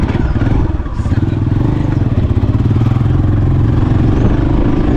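A Heroes motorcycle engine running close by, a loud steady chugging pulse with a clattery mechanical edge that firms into a tighter, more regular beat after the first second, with no speech over it.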